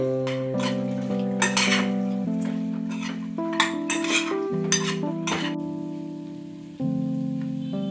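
Fried chicken is tossed into a tomato and soy sauce mixture in a pan, with metal utensils scraping and clinking against the pan in irregular bursts over a faint sizzle and a tonal musical backing, no talking.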